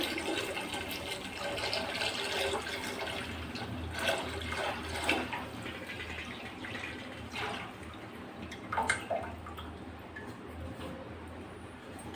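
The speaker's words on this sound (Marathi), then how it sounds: "आता आपण हे उकळत्या पाण्यात हळूहळू हे सोडून देऊ." A pot of boiling water bubbles and churns steadily as ragi papad batter is slowly lowered in, with small splashes rising now and then over the constant rolling boil.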